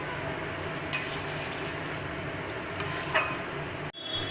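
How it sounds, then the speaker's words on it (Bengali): Chickpeas and taro greens being stirred in a pan for a traditional Bengali dish: a steady low sizzle and soft scraping, with a few brighter clinks and a sharp knock near the end. "ছোলাগুলো দিয়ে দিলাম, কচুর শাকটা দিয়ে দিলাম, নাড়াচাড়া করতে হবে।"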